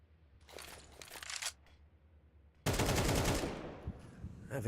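Counter-Strike gunfire crackles in rapid bursts, a short volley first and then a louder sustained stretch of shots, with faint background ambience and no clear talk.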